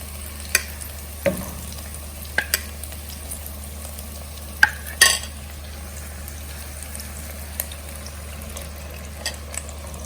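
Poppy seed paste being mixed into potatoes in a pan, with a few sharp scrapes and clinks of a utensil spread out over a low constant hum and faint sizzle.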